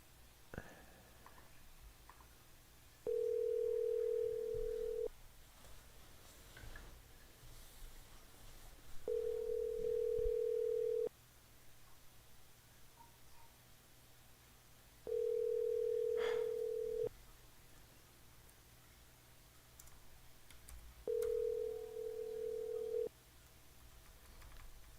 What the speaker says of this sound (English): I started to dial a number